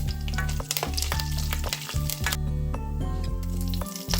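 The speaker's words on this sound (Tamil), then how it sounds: "இப்போ எண்ணெய் சூடாயிட்டு கருவேப்பிலை போடுறேன். அதோட பெருஞ்சீரகத்தையும் சேர்க்குறேன்" Curry leaves and fennel seeds sizzle loudly in about 50 ml of hot oil for mutton fry, a dense, steady crackle with brief spattering bursts throughout.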